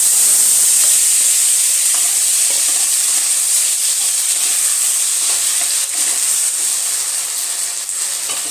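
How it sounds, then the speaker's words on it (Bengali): Tomato dropped into hot oil with mustard seeds for a coriander and green chilli tomato chutney, giving a loud, steady sizzle and hiss that holds throughout with no talking. "এবার আমি টমেটোটা দিয়ে দিচ্ছি।"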